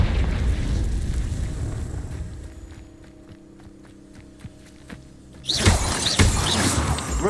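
A Confringo blasting spell in Hogwarts Legacy bursts with a loud, crackling explosion after a stretch of quieter ambience and scattered footsteps, then rings out with a bright, shattering tail.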